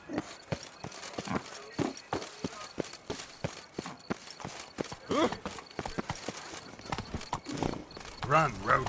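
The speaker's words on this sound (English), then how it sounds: "Run, Roach." A horse gallops in a PlayStation 4 video game, giving rapid, even hoofbeats up close that run steadily throughout while a voice talks over them.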